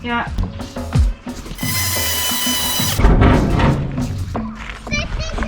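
A power drill whines steadily for a couple of seconds while drilling small holes during a campervan conversion, with voices talking before and after and clattering handling noise around it.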